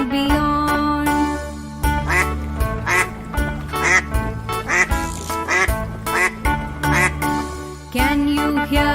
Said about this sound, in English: Quack quack says the duck in the pond